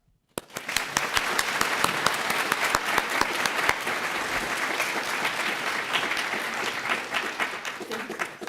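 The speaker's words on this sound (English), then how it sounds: "Please join me in welcoming to the stage Professor Yann LeCun." An audience breaks into sustained, dense applause welcoming Professor Yann LeCun onto the stage at an AI talk, steady and loud from start to finish with no voices over it.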